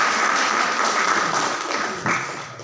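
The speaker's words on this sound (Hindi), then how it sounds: "भरपूर तालियां होनी चाहिए उस्ताद अनवर भट्ट साहब" Attendees at a small district meeting of teachers and enthusiasts clap for Ustad Anwar Bhatt, a short burst of fairly close, busy applause that thins toward the end.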